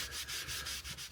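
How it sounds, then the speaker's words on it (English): Scrap wood pressed against a big power sander, a steady broadband rasping hiss with a low motor hum beneath and faint rhythmic pulses as the piece is worked back and forth, no voices. "video showing me sanding it on the big sander"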